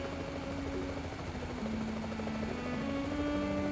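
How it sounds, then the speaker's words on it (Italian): Helicopter-like rotor and engine drone from the F.I.S.T. video game, a steady continuous whirring hum with tonal whine, holding level and close throughout without speech. "Guarda, mamma, sono un elicottero."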